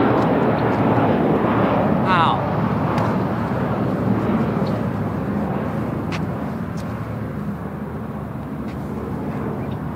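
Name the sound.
airplane taking off in the video game World of Fear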